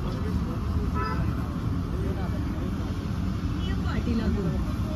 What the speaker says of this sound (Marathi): गाडी पेट्रोलवरती स्टार्ट झालेली आहे.